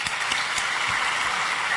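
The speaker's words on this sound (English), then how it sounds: "So let's give all of them a big round of applause, please." Steady, dense applause from a large audience of business leaders at a governor's business summit, a continuous even wash of clapping with no pauses and no talk.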